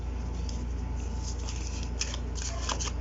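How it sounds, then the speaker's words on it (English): An oracle card deck is shuffled by hand, giving a steady papery riffle and slide of cards, close up over a constant low hum, with a few sharper flicks toward the end. "it's really easy to shuffle for these kind of decks"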